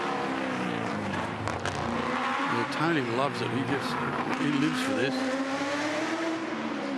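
Touring Car Masters qualifying in Sydney, a classic touring car finishing its lap with engine revving and shifting pitch as it passes, heard under steady commentary from a race announcer.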